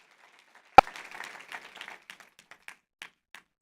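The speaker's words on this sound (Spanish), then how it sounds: "Denle un aplauso al Rey de la Gloria conmigo." A church congregation claps in praise, opening with one sharp clap and then scattered, thinning claps that fade out after about three seconds.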